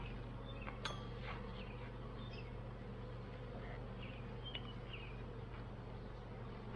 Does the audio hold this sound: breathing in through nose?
no